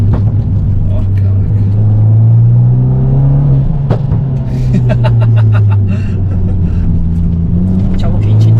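An Abarth 595 in sport mode gives off a deep, steady exhaust rumble from inside the cabin while driving. The drone swells and eases slightly with a few sharp pops, and people talk over it throughout.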